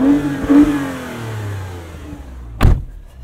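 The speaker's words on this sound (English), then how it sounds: "We'll give you another taste of this exhaust here." A 2020 Toyota Avalon TRD exhaust rises in a short rev and falls back, then a sharp, loud blip near the end, heard close and alone.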